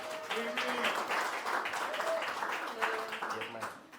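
Audience applause at a business kickoff event, a moderate patter of clapping with voices talking and calling out over it.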